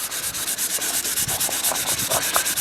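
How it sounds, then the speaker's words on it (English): Steady rhythmic sanding of a Volvo XC90 car bumper, a rough scratchy rasp repeating in quick strokes, close and continuous throughout. "If I keep sanding that, it will change the shape of the bumper"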